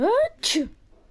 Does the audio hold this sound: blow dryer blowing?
no